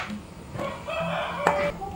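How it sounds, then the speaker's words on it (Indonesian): A village rooster crows in a short, drawn-out call over faint household background noise. "Suara-suara ayam di video saya ini lumayan sering terdengar, maklum karena kita tinggal di desa dan banyak memelihara ayam."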